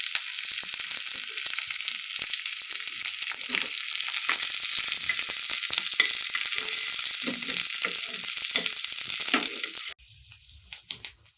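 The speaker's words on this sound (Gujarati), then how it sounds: "એ જ પેનમાં આપણે મીડિયમ સાઇઝની ડુંગળી એડ કરીશું. એને પણ આપણે થોડી કલર ચેન્જ થાય ત્યાં સુધી બ્રાઉન થવા દઈશું." A medium-sized onion browning in a frying pan, giving a strong continuous sizzle with scattered scrapes of stirring for about ten seconds before it abruptly drops to near quiet.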